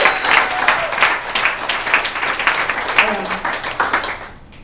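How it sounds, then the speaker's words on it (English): Audience applause at a spoken-word poetry performance, steady dense clapping from a crowd that carries on for several seconds before cutting off abruptly at the end. "clap for her because she's doing so much"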